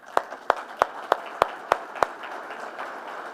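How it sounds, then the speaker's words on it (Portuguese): An event audience gives a few sharp, separate claps, about seven evenly spaced hits over two seconds that then trail off, fairly faint and with no talking. "uma salva de palmas"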